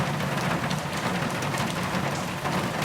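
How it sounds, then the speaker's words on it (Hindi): Heavy torrential rain pours down in a loud, dense, unbroken hiss, steady and close throughout with no voices. "इतनी मूसलाधार बारिश में।"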